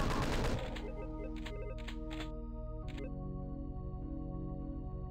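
The chaingunner enemy in Doom 2 fires a rapid burst of gunfire, with a few separate sharp shots after it, all loud and close over a steady game music bed.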